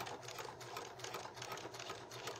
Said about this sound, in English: I'm going to sew just a couple stitches, and I'm going to back stitch as well